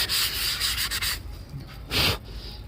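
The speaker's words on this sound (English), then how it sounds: "at the end of the day, sandpaper does an amazing job as well" Sandpaper rubbed by hand over a wooden TV unit, quick rasping strokes in a close rhythmic burst, then a pause and one more short stroke, with no talking.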